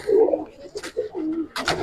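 Giribaz pigeons at a loft, a few soft close coos in short bursts across under two seconds, with brief rustling between calls.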